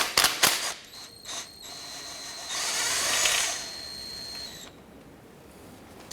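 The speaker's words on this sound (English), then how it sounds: "Using a 10mm socket, go ahead and remove this bolt right here." Ratchet with a 10mm socket working a bolt loose on a 2008-2013 Honda Accord engine, a few short clicking bursts followed by a longer steady ratcheting stretch, close up with no talking.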